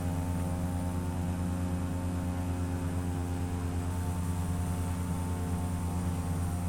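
A simulated airliner's engines in FSX drone steadily and loudly during the climb after takeoff, a constant tonal hum with no breaks.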